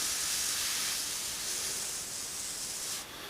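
An airbrush sprays test paint, thinned slightly thicker than milk, giving a steady close airy hiss that runs continuously before easing off near the end.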